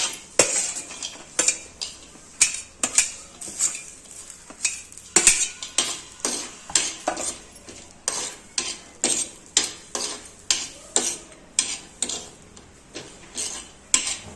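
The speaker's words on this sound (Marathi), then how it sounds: "कांदे भाजून झाले, आता खोबरं भाजून घेते।" Grated coconut dry-roasting in a pan while a spatula scrapes and stirs it in a steady rhythm of sharp, close metallic strokes, with no voices.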